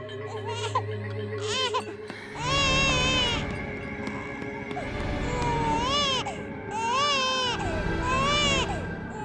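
A baby girl cries in repeated wailing bursts, some short and some drawn out with rising and falling pitch, close and fairly loud, separated by brief pauses.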